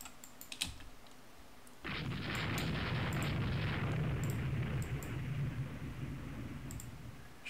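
Naval shell impacts and gunfire in the warship strategy game Rule the Waves 2, a sudden rumbling roar that swells and sustains low and heavy, with faint clicks scattered before and over it.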